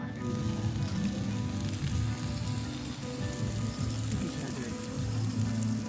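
Continuous crackling sizzle of pork cooking on a hot Thai tabletop grill (moo kratha), close and steady throughout, with no talking.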